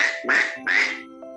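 Two loud, nasal quacks from a voice imitating a duck, close and distinct, followed by a faint tail.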